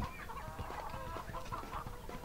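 Several chickens cluck steadily in Earthworm Jim 3D on the Nintendo 64, a busy, close flock chatter with no talk over it.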